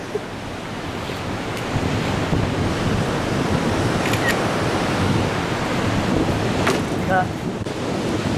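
Strong wind buffets the microphone in a constant loud rushing roar, with a few faint clicks and distant voices briefly audible underneath.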